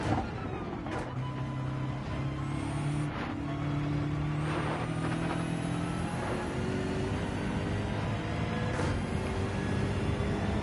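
Race car engines in Gran Turismo 7, including a sprint BMW, droning and revving with rising pitch sweeps as cars shift gears, layered engine tones holding steady throughout with occasional sharp clicks.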